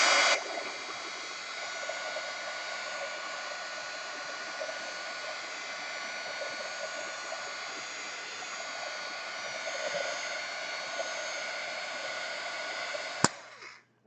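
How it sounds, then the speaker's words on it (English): A heat tool blows hot air over marker artwork in one steady, loud, even whoosh that runs unbroken, with a sharp click near the end as it switches off. "I'm going to throw some air on it, some heat."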